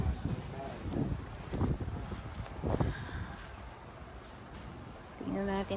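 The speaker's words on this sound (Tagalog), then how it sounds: "Lakas ng hangin." Strong gusty wind blows outdoors on a windy day beside potted plants, rumbling and buffeting the microphone in broad surges, with voices speaking in short bursts over it.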